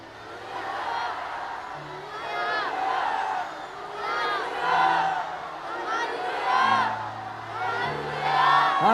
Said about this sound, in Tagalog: hihilingin ko sa inyo ang sigaw na malakas na 5 hallelujah